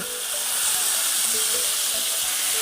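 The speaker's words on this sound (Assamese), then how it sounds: "এতিয়া বৰ্তমান বিলাহীটো ঢালি দিলোঁ" Tomato hits a hot, oiled pan already holding cumin powder for an Assamese fish and tomato curry, giving a brisk, close, continuous sizzle and hiss with scattered crackles.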